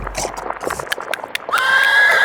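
A horse whinnies loudly and close after a run of quick hoof clip-clops, the galloping beats giving way to a sustained high neigh.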